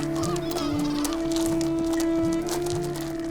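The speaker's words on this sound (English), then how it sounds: "Two male sooty gulls are locked in a bitter territorial dispute." Two male sooty gulls squabble over territory at a breeding site near the sea, giving repeated harsh, honking calls in quick, overlapping bursts against a steady background hum.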